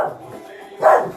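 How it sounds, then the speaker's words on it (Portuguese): A pet dog barks indoors, one sharp bark at the start and a louder bark near the end, fairly close, with a stretch of quieter sound between. "Minha cachorra."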